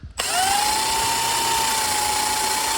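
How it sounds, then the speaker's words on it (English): An electric drill spins up abruptly and runs at a steady high whine, loud and close, continuing without pause. "you'll see when I start drilling"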